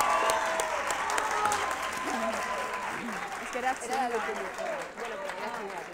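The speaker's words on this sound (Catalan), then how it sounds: "No passa res, aplaudiu, aplaudiu." Applause from a TV game show studio audience, steady clapping sustained throughout with voices talking over it.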